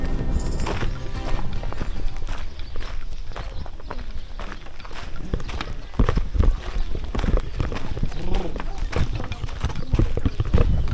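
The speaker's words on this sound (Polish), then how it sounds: "Koniki." Horses walk with clattering hooves at a stunt show, many overlapping clip-clops in an uneven rhythm, loud and close, with voices talking and an occasional whinny.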